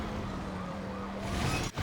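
Police car siren in the PS3 stunt driving game Stuntman: Ignition, a steady wail under loud engine and road noise, continuous and fairly close.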